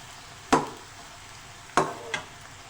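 Onion fries in a pan, with two sharp bursts of stirring and sizzle standing out over a quiet background hiss, followed by a smaller third scrape.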